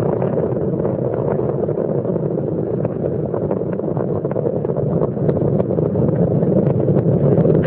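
Space Shuttle Columbia's three liquid-fuel main engines at the 2003 STS-107 launch from Kennedy Space Center, throttling back during ascent: a loud, continuous, crackling roar with no pauses.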